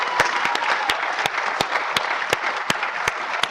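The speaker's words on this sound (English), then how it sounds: "Let's give them a round of applause, rousing round of applause for emerging as the finalists" Applause for finalists at a national youth debating competition, a dense, steady patter of many hands clapping from a sizeable audience, with sharp, regular close claps standing out over the crowd.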